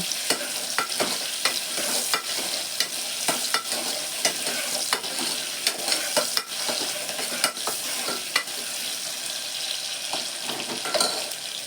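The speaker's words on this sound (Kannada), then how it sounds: "ಸ್ವಲ್ಪ ಫ್ರೈ ಆದರೆ ಸಾಕು ಈರುಳ್ಳಿ" Onions fry in a pan on a stove while a spoon stirs them, the steady sizzle broken by frequent sharp scraping and clinking strokes at an irregular rhythm, close and moderately loud, with no talking.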